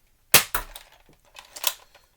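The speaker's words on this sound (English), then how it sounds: "I'm firing the Adventure Force Waffle Head darts here" A Nerf Elite 2.0 Wild Edition Trailblazer RD-8 blaster firing Adventure Force Waffle Head foam darts: a few sharp, close pops, the first loudest, with short gaps and faint clatter between them.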